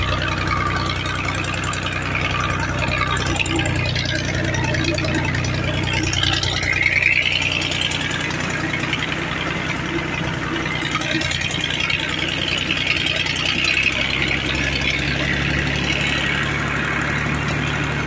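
A tractor engine works farmland, giving a steady, continuous mid-level rumble and drone that holds unchanged for the whole stretch, heard fairly close with no talking.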